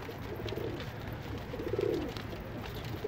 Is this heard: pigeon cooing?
yes